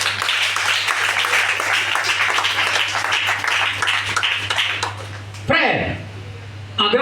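A church congregation at a thanksgiving service applauds and cheers in praise of God, a dense, steady wash of clapping and voices for about five seconds before it abruptly cuts to a short, quieter stretch.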